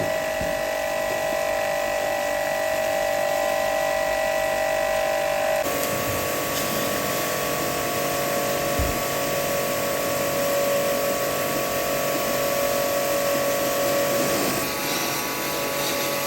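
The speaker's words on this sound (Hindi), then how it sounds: "एसी जो है ना वो फिट हो चुका है, और अब माशाल्लाह इतनी हवा है ना, इतनी बहुत ही ज़बरदस्त हवा है" A newly installed air conditioner running indoors, giving a constant electrical hum and airflow drone that grows fuller and louder partway through, steady and close with no talking.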